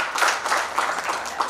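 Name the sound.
audience applause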